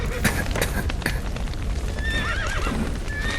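Horses neigh and whinny loudly in The Witcher 3: Wild Hunt, with clopping hooves and shuffling around them in a busy game scene.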